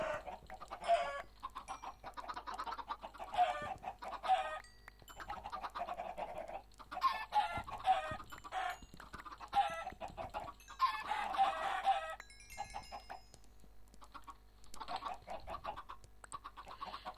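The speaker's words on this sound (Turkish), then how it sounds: "resmen tavuk katliamı yaptık ya." A flock of chickens in a Minecraft-style survival video game clucking and squawking continuously in bursts, fairly loud and close, with no talking over them.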